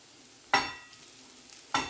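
Masala rice with vegetables is stirred in a hot pan, two sharp scraping strokes a second or so apart over a soft background sizzle.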